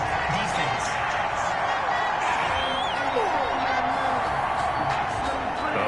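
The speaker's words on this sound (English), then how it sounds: "this crowd does not like that call" Stadium crowd in an American football video game, Dolphins visiting the Cardinals, reacting to a roughing-the-passer penalty with a steady, dense roar and scattered whoops under commentary.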